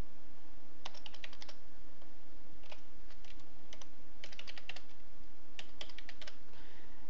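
An email address being typed on a computer keyboard: bursts of quick, light key clicks with short pauses between them, over a steady background hum and no talking.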